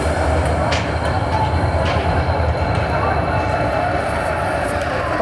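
The Vasco da Gama Tirupati Express (17420) arriving at a junction, a loud continuous rumble of rolling rail wagons with faint squeals and clatter throughout.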